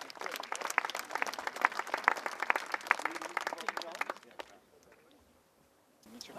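Audience applause at a municipal groundbreaking for the De Haven housing project in Nissewaard, a crowd clapping densely for about four seconds, then dying away into near silence before a voice begins.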